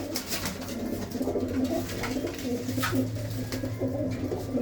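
Pigeons at a loft coo in a continuous low burble, with several birds overlapping and light background noise throughout.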